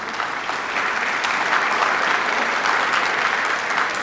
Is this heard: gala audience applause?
yes